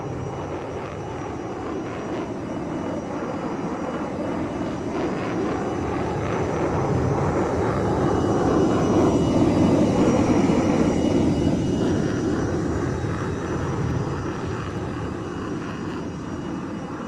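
Avro Vulcan bomber XM597 takes off down a runway in a Roblox game, a sustained deep jet roar that swells toward the middle and then slowly fades.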